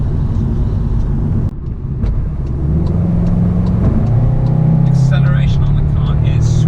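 Engine and exhaust of a 2019 SEAT Leon Cupra ST R estate on the move, a steady low drone that swells as the car gathers speed, heard close and continuous beneath a voice.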